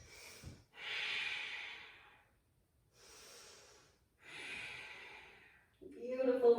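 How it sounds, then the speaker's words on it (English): Slow yoga breathing during a vinyasa flow, with long airy inhales and exhales moving into a forward fold: four drawn-out breaths in a steady rhythm, close and soft, ending in a brief louder rustle. "Inhale as you find length, exhaling to forward fold it."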